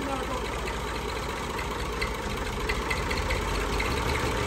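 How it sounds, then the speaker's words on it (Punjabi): An old Massey Ferguson 240 tractor idles nearby, a steady low diesel chug with faint knocking, continuous and even throughout. "ਟਰੈਕਟਰ ਤੁਹਾਡੇ ਦੀ ਆਵਾਜ਼ ਸੁਣੀ ਹੈ"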